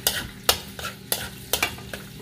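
Garlic fries in a tablespoon of butter while a utensil stirs it, sharp scraping strokes landing roughly every half second over a steady close sizzle.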